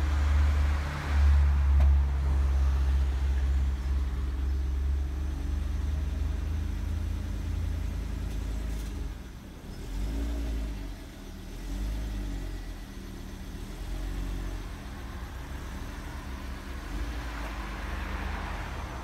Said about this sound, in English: Now start the engine and slowly reverse up the ramp.